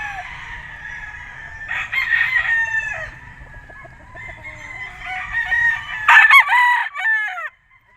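Several white Kelso gamefowl roosters crowing at a gamefarm, overlapping loud crows from nearby birds with clucking and a low background rumble, one crow swelling near the end before a sudden stop.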